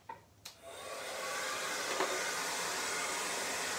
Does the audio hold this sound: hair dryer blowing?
yes